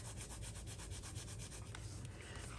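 A folded paper card rubbed firmly by hand, a close, steady papery swishing in fast, even back-and-forth strokes that runs continuously with no talking.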